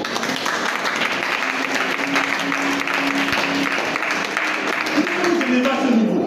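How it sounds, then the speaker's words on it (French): A church congregation applauds for the Lord in a dense, sustained wave of clapping from a large crowd, loud and continuous, with voices calling out and murmuring within it. "Acclame pour le Seigneur"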